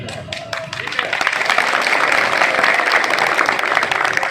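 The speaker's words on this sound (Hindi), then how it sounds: "जिसका आंदोलन में मौजूद जिले भर के सदस्यों ने ताली बजाकर स्वागत किया" A gathered crowd of district members at a protest outside a collectorate claps to welcome newly announced office-bearers, dense applause swelling after a second and holding steady, with speech audible at the start.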